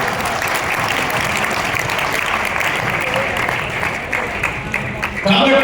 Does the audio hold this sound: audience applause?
yes